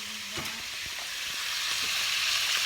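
Sausages fry in a little oil in a pan for Dominican-style sausage and rice, with a steady, close hiss of sizzling fat that swells slightly louder over time, plus a few soft pops and scrapes.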